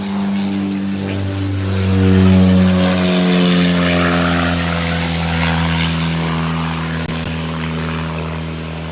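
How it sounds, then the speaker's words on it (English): Small propeller plane passing overhead near a little airstrip, a steady droning engine hum that swells as it comes closer and then slowly fades, clear and with no talk. "that was a plane flying over"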